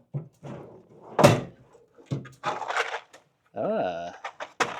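A compartment door on a retired ambulance is opened with a loud clunk partway through, with other knocks and rattles around it and voices talking close by.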